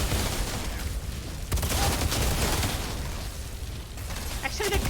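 Rapid gunfire and bursts from the video game Outriders come in loud, dense, continuous volleys, with brief pauses between them.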